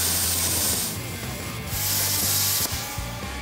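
Plasma torch cutting through a rusted truck chassis frame, a loud continuous hissing roar with a steady mechanical drone beneath, rising in two strong surges.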